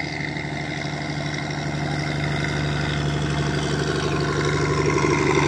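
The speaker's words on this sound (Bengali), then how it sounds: "তো আমাদের দিক দিয়ে ট্রলার যাইতেছে।" A trawler boat's diesel engine chugging steadily on a village river in Bangladesh, a loud continuous low drone that grows slightly louder as it passes nearby, with no talking.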